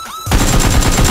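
A Nerf toy blaster fires a rapid, loud burst of shots, about a dozen clattering pops in quick succession right after a brief quiet moment, with no talking.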